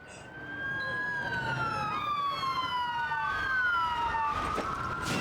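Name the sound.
ambulance sirens in video game Trauma Team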